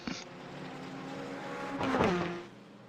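Racing car engines in Gran Turismo 4, a steady droning hum from McLarens and other cars in a Group B race, swelling as one car passes close by with a rising then falling pitch.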